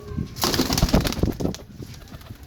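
A pigeon, offered for sale, gives soft coos and a brief burst of wing flutter close by, over light background noise, with no talk.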